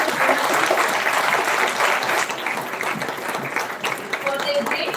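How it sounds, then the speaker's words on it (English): A large audience applauds at an International Women's Day celebration, steady dense clapping filling all five seconds at a loud, even level with crowd noise mixed in. "I request to please give a big round of applause to all these remarkable women"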